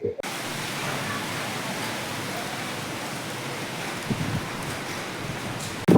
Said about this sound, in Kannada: ನೋಡಿ, ಫುಲ್ ಜೋರಾಗಿ ಮಳೆ ಬೀಳ್ತೈತೆ.